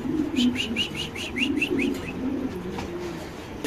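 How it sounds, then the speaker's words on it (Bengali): White racer pigeons make soft rhythmic calls with a brief flutter of activity, close by over a low background hum. "এই যে 2 পেয়ার হোয়াইট রেসার কবুতর"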